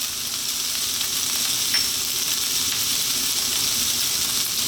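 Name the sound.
minced chicken sautéing in a pan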